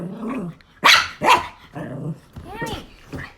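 A dog barks at a cicada outdoors, giving several sharp, loud barks and a yip in quick succession, with a voice speaking between them.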